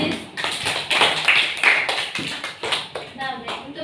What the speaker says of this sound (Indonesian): Beri tepuk tangan untuk Sulis.